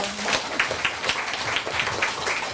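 Audience applause at an author meet-and-greet talk with a Buddhist monk, moderately loud scattered clapping from a room of listeners with distinct individual claps standing out, continuing evenly with no voices.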